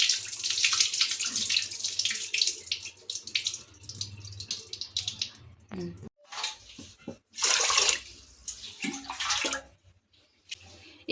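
Rice being washed under tap water, with running water gushing and splashing in bursts and stopping between pours, close by and fairly quiet.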